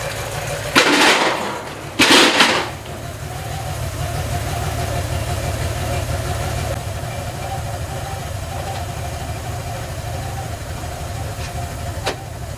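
A 3.2-litre Porsche 911 G-body Cabriolet engine idles with a steady mid-pitched rumble that keeps running after the key is removed, with two short loud bursts of noise early on.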